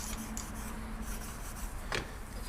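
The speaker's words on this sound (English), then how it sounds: "We'll get some fine steel wool here." Fine steel wool rubbed over a probably stainless metal part on a 1947 MG TC, a soft close scratchy hiss in quick strokes, faint and steady, with no talk.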